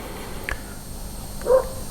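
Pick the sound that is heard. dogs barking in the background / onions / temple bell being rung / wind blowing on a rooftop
dogs barking in the background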